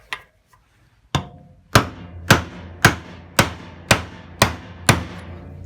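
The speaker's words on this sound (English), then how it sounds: "I'm just going to gently try and tap that out" A big hammer strikes a mild steel bar to drift a wheel bearing out of a cargo bike wheel, one faint tap followed by eight sharp metallic blows at an even, steady pace, close and ringing briefly.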